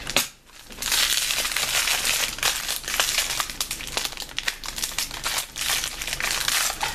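Plastic packaging being cut open with a box cutter, loud close crinkling and crackling of plastic with sharp snaps and rustles throughout, no talk.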